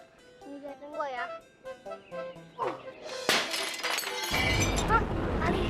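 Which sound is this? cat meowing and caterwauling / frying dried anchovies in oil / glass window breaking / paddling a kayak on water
glass window breaking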